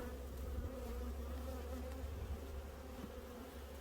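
Honeybees swarm around a newly mated queen at the hive, a dense, steady buzzing hum that stays close and loud throughout, with no voices.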